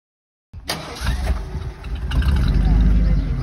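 A 1936 Auburn Speedster 851 engine cranks and catches, then settles into a loud, rumbling idle that holds steady close by.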